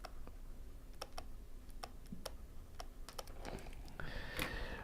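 Keys clacking on a computer keyboard as a single word is typed, a quick run of sharp, close clicks with short gaps between them, heard alone in a quiet room.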